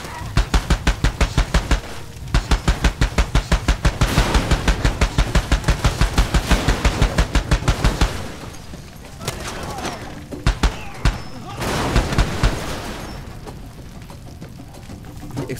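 Rapid automatic gunfire rattles in Far Cry 2 as a target is shot at, long sustained bursts of evenly spaced shots, loud and close, then a pause and a few shorter bursts.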